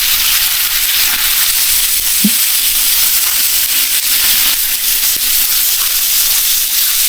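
Chicken, peppers and onions sizzling in oil on a non-stick flat top griddle, a loud, constant hiss broken by a few brief scrapes from stirring.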